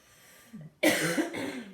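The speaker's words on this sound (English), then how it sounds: "I'm going to cough again." After a short murmur, a single sharp cough bursts out close to the microphone, followed by a softer throat-clearing tail.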